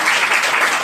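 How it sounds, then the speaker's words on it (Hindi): Loud, dense applause fills a venue program event in Shankargarh, a steady wash of many hands clapping close by with no break. "उनके लिए जोरदार तालियां बजाएं।"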